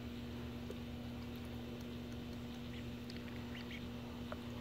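Faint, scattered Magpie duckling quacks over a steady low hum, distant and sparse, as they play in water, with no talking.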